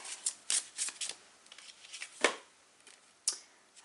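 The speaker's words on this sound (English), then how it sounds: "I want to shuffle to get another card" Tarot cards riffled and shuffled in quick papery bursts, several brisk flurries with short pauses between, close and fairly quiet.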